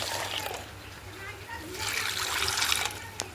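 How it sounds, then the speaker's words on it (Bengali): Water poured into a bowl of two kinds of lentils and soybeans for soaking, a steady splashing trickle with a low background hum. "এবার এগুলো একটু করে জল দিয়ে ভিজিয়ে রাখবো।"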